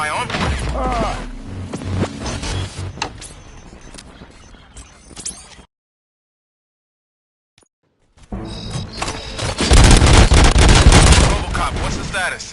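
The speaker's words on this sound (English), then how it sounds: "Gunshots? What's going on?" Video game gunfire in an action scene, dense bursts of shots and booms that cut out to near silence for about two seconds, then return in a louder, heavier volley near the end.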